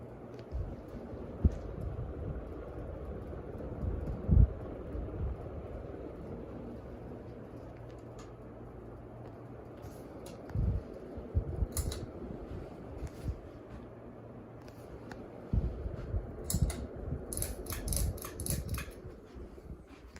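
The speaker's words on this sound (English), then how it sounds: "Good fan. A little wobble to it." A 44-inch Harbor Breeze Mayfield ceiling fan runs with a steady low whir and a slight wobble, accompanied by faint intermittent ticks and clicks.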